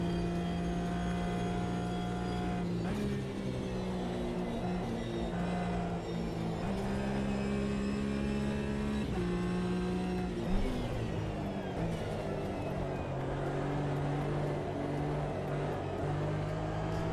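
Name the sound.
race car engine in video game Automobilista 2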